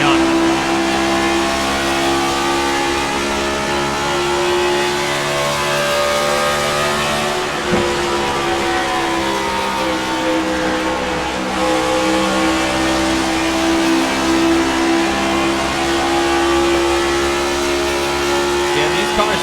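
Onboard with a Ford Mustang race car in a stock-car racing video game at Chicagoland, its engine droning loud and steady at high revs with slight pitch swells, a commentator's voice talking over it throughout.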